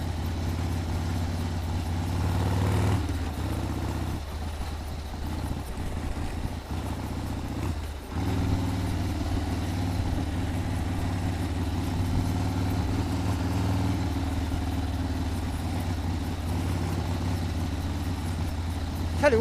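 A 1979 Harley-Davidson Ironhead Sportster rides slowly through a village, its engine a steady, loud low rumble with brief dips in throttle, running continuously and close throughout.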